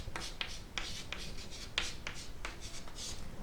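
Pen or marker writing out the standard form of a cubic polynomial during a maths lesson, a run of short, close scratchy strokes with brief pauses between them, heard alone.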